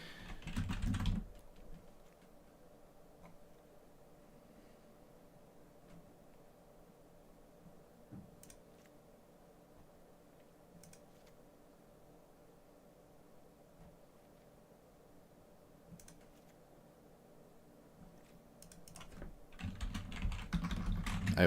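Computer keyboard typing picked up faintly by a desk microphone whose wire lies over the keyboard, soft scattered clicks and taps over low hiss, with louder handling noise at the start and end.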